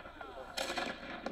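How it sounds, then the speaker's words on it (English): A cannon fires in battle footage, its booming blasts arriving in a burst near the middle and again at the end, loud and close, over a background of voices. "It's a nice, more close up of a cannon firing."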